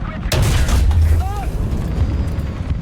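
Cannon fire from an M1 Abrams 120mm tank gun in War Thunder, a single sharp loud boom with heavy low-end rumble and a lingering crackling tail, battle noise continuing afterward.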